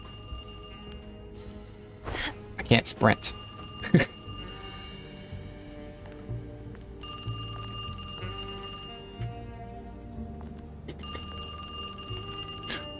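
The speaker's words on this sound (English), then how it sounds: "Answer the phone." Old telephone bell rings in bursts with pauses in the Alone in the Dark remake, mid-loud over a faint game ambience, with a few loud thumps early on and a brief spoken line.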